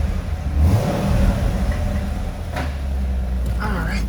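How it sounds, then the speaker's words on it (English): A 2010 Chevrolet Corvette coupe engine idles steadily with a low rumble, a faint rev swelling briefly, heard up close outdoors. "we'll just hop out with it running and let you have a listen."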